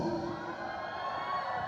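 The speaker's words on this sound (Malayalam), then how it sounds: "കൈയടിക്കണ്ട, കൂവോ?" An audience at a henna festival competition gives a sustained, loud collective booing holler, a dense crowd roar with a steady drawn-out tone near the start that carries evenly through the whole stretch.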